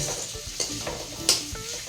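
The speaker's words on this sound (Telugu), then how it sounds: "ఇంకో కడాయిలో మసాలా దినుసులు వేసాను అవి ఏంటంటే ఆకు దాల్చిన చెక్క స్టార్ పువ్వు" Whole spices, including bay leaf, cinnamon and star anise, frying in a kadai for chicken masala curry: soft sizzling under a few sharp clinks and scrapes of a stirring spoon.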